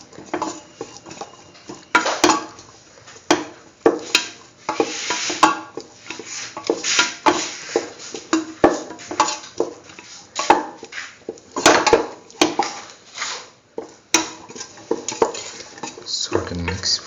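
A utensil scrapes and clatters steadily against a pan as potato pieces with spices are stirred, producing repeated close taps and scrapes over a faint sizzle.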